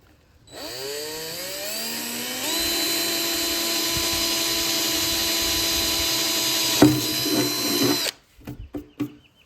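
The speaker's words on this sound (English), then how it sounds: "I'm going to drill a little pilot hole." A power drill whines steadily for several seconds drilling a small pilot hole for a bilge pump installation, rising in pitch as it spins up, then cuts off, followed by a few short clicks and knocks.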